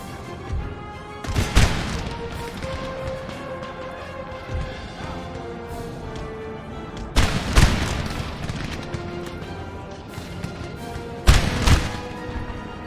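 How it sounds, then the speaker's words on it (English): Artillery fire in a Napoleonic-era Total War battle: heavy booms and crashes at three spaced moments over a constant rumble of distant gunfire and battle din. "We'll actually get our artillery start pounding them."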